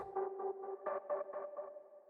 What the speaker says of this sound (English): we're going to throw on an echo boy, just to give some more delay.